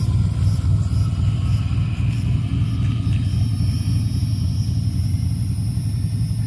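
A supercharged Ford Foxbody engine idles steadily at about 850 RPM, a loud, continuous low rumble with an even pulse and a faint high whine from the supercharger above it, with no talking.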